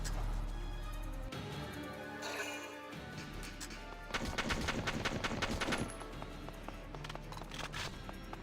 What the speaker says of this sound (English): So now that tank will take out that gate probably in 2 more shots